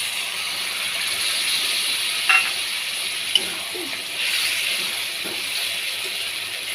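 Water poured into curry cooking in a pan, giving a steady, loud sizzling hiss with a few faint clinks and stirring sounds over it.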